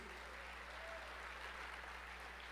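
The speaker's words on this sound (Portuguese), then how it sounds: "Pode aplaudir a Jesus" Faint, even applause from a church congregation during a sermon, a dense wash of clapping held steady over a low electrical hum.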